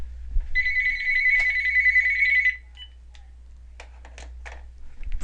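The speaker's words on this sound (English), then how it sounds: "house phone, business line going off" A house phone on a business line rings indoors, one loud electronic trill lasting about two seconds, then fades to quiet room noise with faint clicks.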